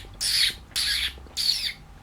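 Someone imitates a sparrow's call with the voice, three short breathy chirping bursts at an even pace, close and with no talk in between.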